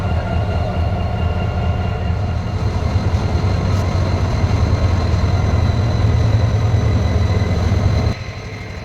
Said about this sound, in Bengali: আমি অপেক্ষা করছিলাম ওই ইঞ্জিনটি কখন এসে এটার সাথে কানেক্টিং হবে